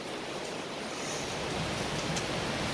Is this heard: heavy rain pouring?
yes